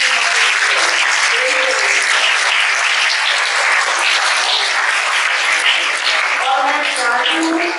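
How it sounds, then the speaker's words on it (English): An audience at a school Independence Day celebration gives a loud, sustained round of applause, dense clapping that fills the whole stretch without pause. "So a big round of applause to entire"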